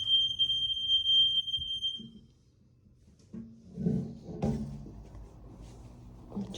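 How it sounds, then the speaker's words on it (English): A smoke alarm under test sounds a steady high-pitched electronic tone for about two seconds, then stops; afterwards there are soft knocks and handling noises indoors. "let's test the smoke alarm"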